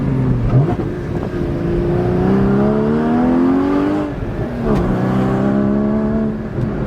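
A Porsche Cayman GT4 engine accelerating on a canyon drive, its loud, sustained rising note climbing through gears with brief dips between shifts, continuous and close throughout.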